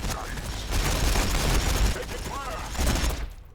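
Bursts of gunfire crackle in Warhammer 40000 Battlesector during an Ork versus Blood Angels multiplayer match, with a dense, steady volley running across the clip under a voice.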